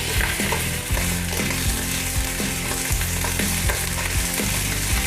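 Four cloves of minced garlic sauté in a hot pan after ribs have browned, with a loud, dense, continuous sizzle and repeated rhythmic scraping of a utensil stirring close by.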